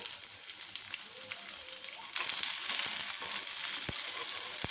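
Dried red chillies and thin slices of onion fry in a pan, with a soft, steady sizzle that jumps louder partway through as more goes in. A few faint clicks are heard, and no one speaks.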